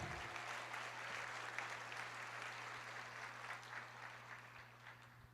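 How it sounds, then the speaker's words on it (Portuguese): A church congregation applauds steadily at a moderate distance, a dense, even wash of hand clapping that holds for several seconds before easing slightly, with no talk over it. "Pode aplaudir."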